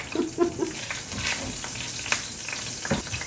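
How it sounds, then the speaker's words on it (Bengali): Pre-fried tilapia fish pieces sizzle in a pan of simmering greens, a steady close crackle and hiss with a few light clinks and stirring sounds, no talking. "এখন ওতে দিয়ে দিব আমার ভেজে রাখা তেলাপিয়া মাছগুলো"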